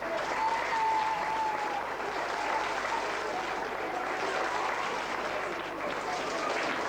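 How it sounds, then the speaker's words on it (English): Sustained applause from an audience in a community hall at a youth under-10 event, steady and dense throughout, with a faint whistle or voice tone early on. "I think you deserve a good round of applause for yourselves."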